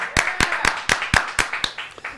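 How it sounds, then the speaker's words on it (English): Seven sharp, evenly spaced claps ring out close by in a studio, a small crew keeping a slow rhythm before trailing off. "Round of applause, everybody."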